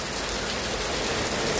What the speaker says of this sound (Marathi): तुफान पाऊस आहे